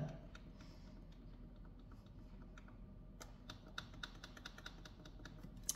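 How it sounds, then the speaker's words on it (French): Button presses on a Cake Factory baking appliance, a run of small sharp clicks and beeps, quiet and close, coming in quick irregular succession over the second half. "Là j'appuie sur le plus pour 45 minutes."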